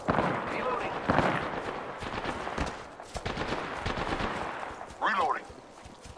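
Rapid automatic gunfire in the Apex Legends video game, bursts of dense shots throughout amid game sound effects, with a voice speaking over the fire.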